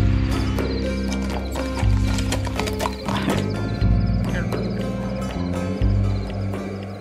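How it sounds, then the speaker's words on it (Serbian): Police horses at a campsite clop their hooves in quick irregular steps close by, with a loud neigh rising over the hoofbeats and people talking in the background. "Svakog dana naš kamp su obilazili i policajci na konjima."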